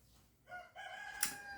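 A rooster crows outside, faint and distant: a short, clear harmonic call that rises and holds for about a second, with a brief sharper burst near the end.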